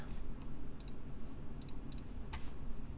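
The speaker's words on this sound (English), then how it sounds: "you guys can hear the typing, right?" Someone types on a computer keyboard during a build stream. The keys give scattered, light clicks over a loud, steady background hum.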